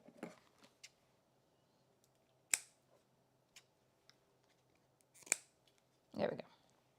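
Scissors trim small paper pieces for a scrapbook project, with a few short, crisp snips spaced apart amid quiet handling noises and faint background sound.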